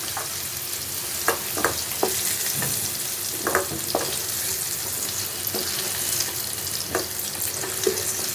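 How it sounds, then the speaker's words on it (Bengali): Potatoes frying in hot oil, a steady close sizzle broken by several sharp clinks and scrapes of a utensil lifting the pieces out, with no voices. "আলুগুলো ভাজা হয়ে গেছে এখন আমি তুলে নেবো"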